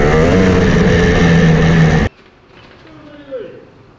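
A KTM 300 EXC two-stroke dirt bike runs loud and close with a steady harmonic engine drone for about two seconds, then cuts off abruptly, leaving only faint background sound.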